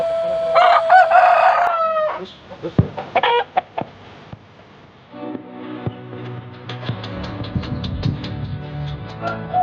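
A rooster crows once, loud and close, then clucks among other farmyard fowl noises and scattered knocks.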